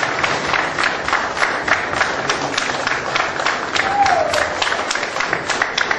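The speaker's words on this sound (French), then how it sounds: "nous allons demander à tous les kimbanguistes ici dans la salle de nous lever et d'applaudir le président Barack Obama" Kimbanguist congregation in a hall standing to applaud President Barack Obama; dense, sustained crowd clapping fills the whole stretch at an even level, with a few voices mixed in.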